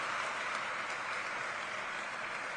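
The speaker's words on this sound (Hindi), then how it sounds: "आप सबसे निवेदन करता हूं कि एक बार जोरदार तालियों के साथ आप उनका स्वागत और अभिनंदन करें।" Dense applause from a crowd welcoming a guest at an outdoor political rally in Chhattisgarh, heard as a steady, distant wash of clapping with no clear individual claps.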